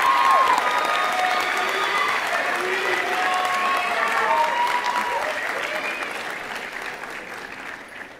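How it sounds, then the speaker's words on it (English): Sustained audience applause at a high school graduation ceremony, dense and moderately loud, slowly tapering over about eight seconds, with scattered voices and cheers underneath. "Let's give a round of applause."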